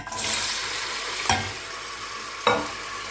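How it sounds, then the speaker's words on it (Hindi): Vegetables with garlic paste fry in a pan with a steady, loud sizzle, broken twice by sharp clatters of stirring. "अब मैं इसमें बारी बारी ये सब्जियां डाल रही हूँ। सब्जियां फ्राई करके मैं निकाल लूँगी।"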